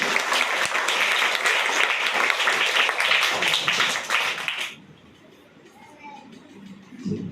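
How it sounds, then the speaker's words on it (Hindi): An audience gives loud applause for a team, dense clapping of many hands for several seconds that then stops abruptly, leaving quiet room tone with faint murmurs. "तो ताई के टीम के लिए जोरदार ताली बजनी चाहिए।"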